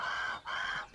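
Two loud clucking calls from a large bird in the Grounded video game, each a sustained, raspy squawk separated by a brief gap, heard up close with no talking.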